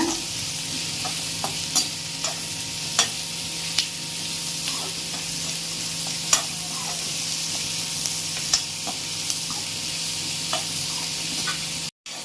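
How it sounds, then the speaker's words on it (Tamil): Onion and garlic sautéing in a pan, a constant close sizzle with regular scraping stirs ticking through it, no talk, ending in a sudden cut. "பாருங்க, வெங்காயமும் பூண்டு இந்த அளவுக்கு வதங்கணும்."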